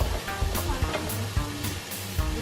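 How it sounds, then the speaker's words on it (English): Vegetables for a vegan lasagna sizzle in a hot pan, a steady frying crackle with a few louder stirring scrapes, close and alone without talk. "I'm gonna saute these veggies."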